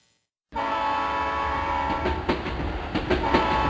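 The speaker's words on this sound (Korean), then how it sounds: "열차는 날마다 삶을 싣고 달렸습니다." A train runs steadily along the rails toward Mokpo Station, terminus of the Honam line, its loud continuous rumble broken by sharp clattering wheel clicks and bursts of squeal after a brief silent start.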